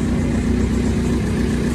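A Toyota 4AGE engine, swapped into a car and only just brought back to life at night, idles close and steady with a dense low rumble, no revving, no voices.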